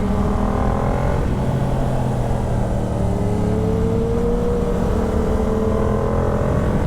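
A Yamaha R7 sport motorcycle engine drones steadily while riding, with a smooth, sustained tone that rises and falls gently as the rider shifts and varies throttle, close and continuous with wind noise.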